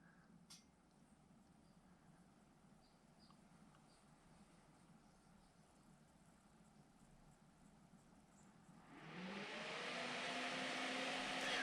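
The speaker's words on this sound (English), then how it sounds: "Those are the fans on the graphics card revving up." Graphics card fans in a budget AMD Ryzen computer spool up, with a faint steady hum suddenly swelling after a long quiet stretch into a loud, rising whoosh of rushing air that holds at high speed.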